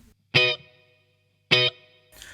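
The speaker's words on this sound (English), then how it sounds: "I've got my Hall of Fame 2 pedal, just to add a bit of plate reverb." Telecaster electric guitar run through a Hall of Fame 2 pedal set to plate reverb: two bright strummed chords spaced about a second apart, each ringing briefly with a subtle reverb tail, followed by a softer third strum.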